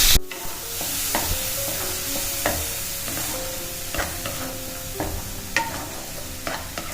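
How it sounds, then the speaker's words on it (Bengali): Onion paste frying in oil in a pan for a prawn and pointed gourd curry, a steady close sizzle with periodic scraping stirs of a spoon, no talking. "একটু ভাজা ভাজা হোক পেঁয়াজ বাটাটা"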